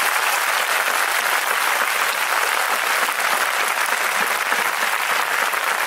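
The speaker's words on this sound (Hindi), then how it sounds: "एक बार ऊपर ताली बजाएंगे यीशु जी के लिए" Church congregation clapping loudly and continuously for several seconds, a dense, even wash of applause with no pauses and no voices standing out.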